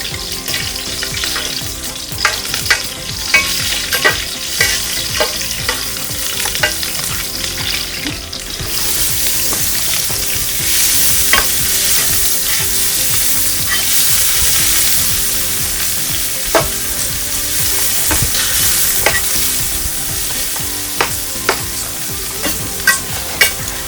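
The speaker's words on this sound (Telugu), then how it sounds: "మనం ఈ ఆనియన్ మంచిగా రెడ్ కలర్కి వచ్చేలాగా ఫ్రై చేసుకోవాలి" Onions and green chilies fry in hot oil in a pan for a Telangana-style fish curry, a loud continuous sizzle broken by repeated sharp scraping knocks from stirring, close up.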